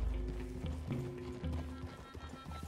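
Horse hooves clip-clopping at a walk in Red Dead Redemption, a steady run of soft, close thuds over several seconds with no talk.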